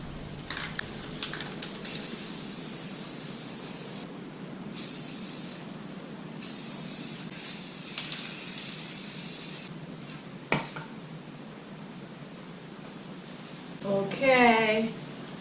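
A spray can hisses in long bursts as plastic parts from a 2020 Suzuki DR650 are painted, steady spray with short pauses and a brief rattle near the end, with a voice at times.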